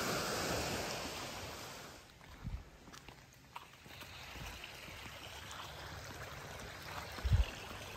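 Small waves lap against a lakeshore, a steady wash that is louder at first and then eases, with a few crunching footsteps and soft bumps nearby and no voices.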